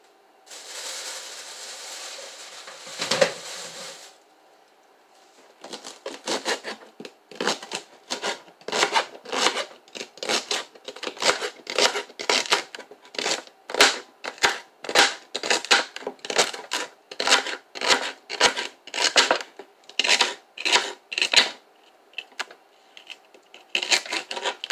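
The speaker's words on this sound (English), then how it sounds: "I'm just gonna give this a quick chop." A knife chops vegetables for hamburger soup on a board, first a brief rasping cut, then a steady series of crisp, close, evenly spaced chops continuing to the end.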